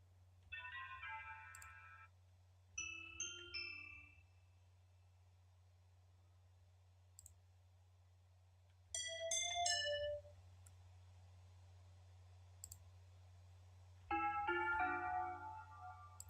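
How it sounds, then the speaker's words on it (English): Short bright bell-like chimes in a soul bounce music beat, three or four clustered tinkling phrases separated by gaps over a steady low hum. "I hear kind of like a cute little bell"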